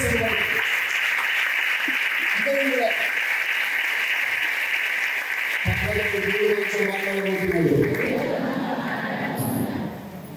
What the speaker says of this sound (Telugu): అందరం ఒకసారి గట్టిగా చప్పట్లు కొట్టి